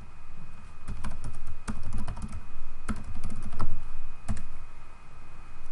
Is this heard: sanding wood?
no